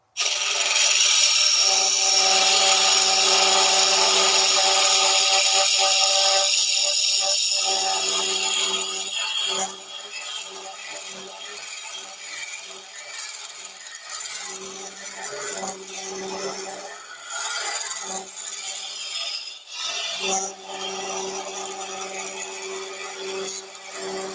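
An Easy Wood round nose scraper hollower cuts into a spinning wooden kitchen scoop on a lathe, a loud bright scraping hiss that drops to a softer, uneven rasp as the cut continues, over a steady motor whine.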